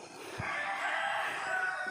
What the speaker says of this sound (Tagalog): Ang palinsag manok.